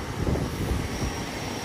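A steady, loud engine drone fills the airplane cabin, a continuous broadband hum with no breaks, and a voice is faintly present beneath it.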